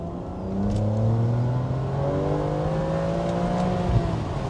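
Ferrari Superamerica engine revving hard under acceleration in second gear, a loud, steady rising drone with climbing harmonics heard from inside the car, no talking.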